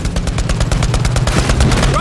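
Rapid gunfire at a tank in the video game Borderlands 3, a loud, dense burst of repeated shots running continuously for about two seconds, close and punchy.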